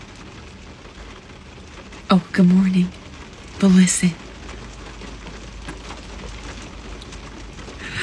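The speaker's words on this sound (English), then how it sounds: "It's the rain! It's the rain! The rain is back." Rain falls on a car, a soft steady patter of drops on the roof heard from inside, while a person speaks briefly over it.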